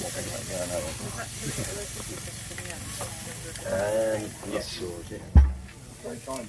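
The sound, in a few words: ribeye steak fat searing on Kamado Joe grill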